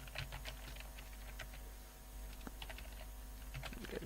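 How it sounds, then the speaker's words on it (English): Steady typing on a computer keyboard while filling in a survey form, with rapid key clicks running continuously over a low background hum. "let me just type anything here"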